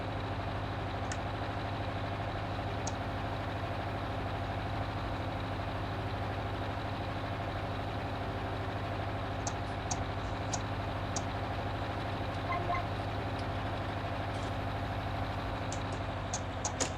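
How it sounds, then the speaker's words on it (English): Tractor engine idling in Farming Simulator 19, a quiet, steady low drone with faint scattered clicks over it. "Well, the size of the tractor, it is very, very quiet indeed."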